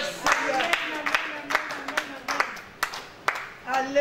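Congregation clapping in steady rhythmic beats during a church worship service, with sung or spoken voices carrying over the claps throughout.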